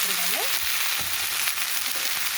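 Onions with ginger-garlic paste frying in a pan for a chicken curry, a steady close sizzle broken by brief scraping stirs and faint tonal squeaks, with no talking.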